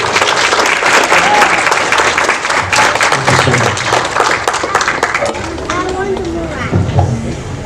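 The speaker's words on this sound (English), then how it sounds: "Give yourselves a round of applause." Audience applause fills a Fayetteville Comic-Con panel room, steady and loud throughout, with crowd voices and cheers mixed into the clapping.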